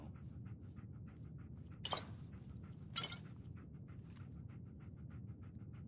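Dogmeat, the canine companion in a Fallout 4 style game, pants steadily in quick rhythmic breaths near the listener, with two brief louder bursts of rustling noise partway through.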